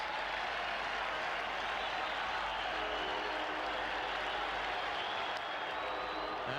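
Crowd noise at a Red Sox baseball game at Fenway Park in 1991, a loud, steady roar of cheering and yelling that holds evenly throughout.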